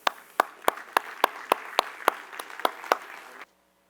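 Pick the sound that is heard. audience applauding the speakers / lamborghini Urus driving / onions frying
audience applauding the speakers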